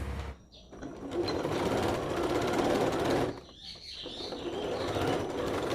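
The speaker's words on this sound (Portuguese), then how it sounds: "vou passar uma costura prendendo aqui, ombro com ombro, da frente e das costas" A sewing machine stitches the shoulder seam of a loose tunic dress, running in a steady whirring burst, pausing briefly, then starting again close and loud.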